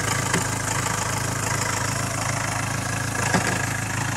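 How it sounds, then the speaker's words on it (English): A 2.2 Ford Transit engine with an idle problem runs steadily nearby, a continuous mid-low drone with only slight swells in pitch, heard alone without talk. "see if it stops this revving up and down"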